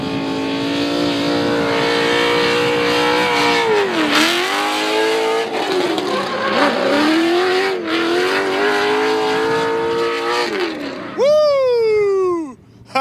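A drift car at a pre-season testing session, its engine revving hard and wavering through a flicked transition and clutch kick, then a sharp tire squeal near the end, loud and close beneath excited commentary.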